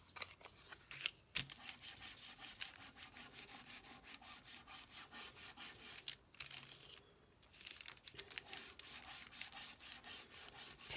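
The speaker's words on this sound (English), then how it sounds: "I'd like to just sand this a little bit." Rhythmic back-and-forth hand sanding of a mixed-media art surface, quiet close strokes in a steady scratchy pattern with brief pauses.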